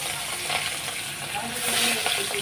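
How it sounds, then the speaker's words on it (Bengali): Pieces of rohu fish fry in a pan, a close, steady sizzling hiss with light bubbling crackle throughout the short stretch. "এই মাছটা ভাজা বসিয়ে দিলাম"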